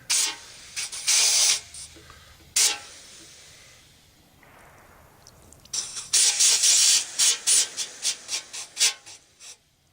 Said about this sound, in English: Jam the air nozzle in there.